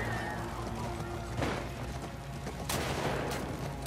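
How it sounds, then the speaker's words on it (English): Gunfire in The Last of Us Part 2 during a chaotic island fight, a few loud cracking shots and impacts over a dense roar of combat and ambience. "Who am I shooting at?"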